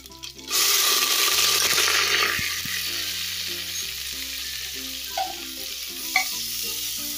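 Onions frying in hot oil until golden brown give a loud, dense sizzle that bursts in at the start, then settles into a steady crackling hiss with occasional spoon clinks against the pan, with no talking.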